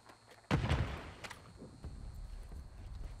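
A grenade detonates in Call of Duty Warzone, one sharp, heavy blast partway in followed by a rumbling decay and scattered thuds, moderately close, with no talk.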